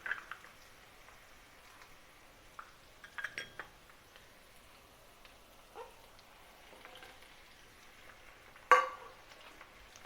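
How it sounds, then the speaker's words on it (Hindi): Chicken is fried with onion, garlic and ginger in a pan, giving a faint sizzle broken by scattered stirring scrapes and metallic clinks, with one sharper clank near the end. "और चिकन को भी भूनेंगे।"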